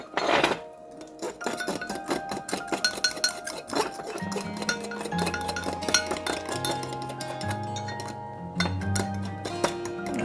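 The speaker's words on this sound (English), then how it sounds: "And then mix this up better." Wood sorrel, sheep sorrel, wild violet and other wild spring greens for soup are mixed in a bowl, giving a run of close, irregular clinks and knocks over a faint tonal hum.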